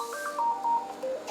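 A telephone at a French countryside inn sounds a string of short electronic tones, clear and fairly close in a quiet room.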